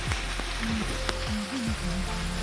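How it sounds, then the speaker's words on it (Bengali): Steady rain patters and hisses throughout, with short, low swooping calls breaking through the downpour now and then. "বৃষ্টি তখনও পড়ছে ভালোই পড়ছে বৃষ্টিটা"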